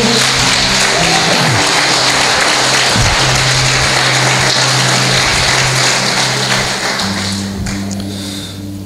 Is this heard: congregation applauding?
yes